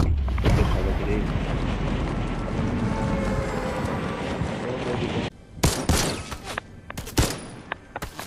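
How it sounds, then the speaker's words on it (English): Gunfire in the Fortnite video game, dense bursts of shots and game effects throughout, then sharper separate cracks in the last few seconds, loud and near. "Someone shooting me."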